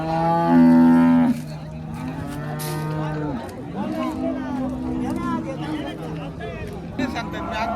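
One loud, close moo from a cow opens the scene at a cattle market in Kopargaon, then people talk over a background of crowd chatter.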